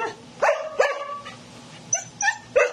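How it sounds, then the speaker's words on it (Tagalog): Several dogs bark and yelp in quick, sharp bursts as they scuffle nearby, about six loud outbursts spread over a few seconds with short pauses between. "May aso ko kasi dumaan. Eh, siyempre, away-away silang mga aso sila."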